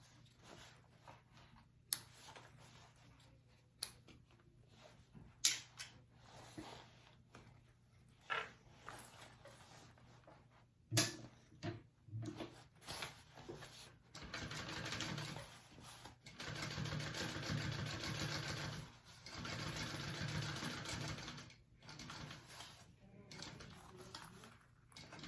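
A sewing machine stitches a row on a handbag panel, quiet intermittent taps at first, then a sustained whirring run of stitching in the second half, close by in a quiet room.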